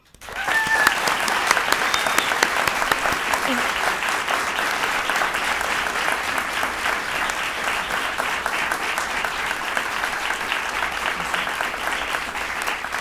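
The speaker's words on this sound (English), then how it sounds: "Let's give another hand to our guest and honor Scott Kelly" Sustained, dense applause from a NASA all-hands audience honoring retired astronaut Scott Kelly, starting abruptly and holding steady and loud for over twelve seconds.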